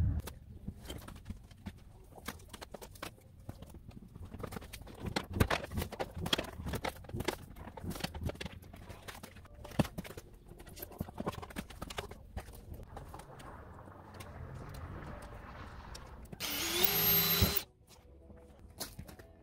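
A drill bores through sheet metal lined with rubbery sound-deadening mat inside a school bus conversion, heard as irregular clunks and scraping, then a loud whirring burst near the end before a quiet hum.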